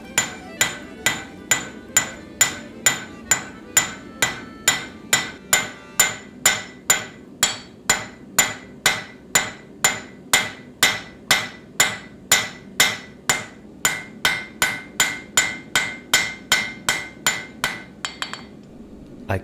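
A hand hammer forges SS2090 spring steel edge stock into a wedge for a folded axe, striking about forty evenly spaced ringing blows, loud and close, in a steady rhythm with no talk.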